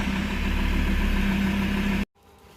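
Ford Ranger 3.2 diesel engine idling steadily with a loud, even low rumble for about two seconds before cutting off abruptly, leaving faint background noise.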